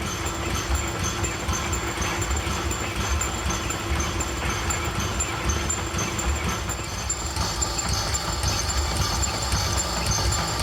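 A model engine runs at a model show at the Museum of Power, giving a steady mechanical hum and whirr with faint rhythmic ticking and no pauses throughout.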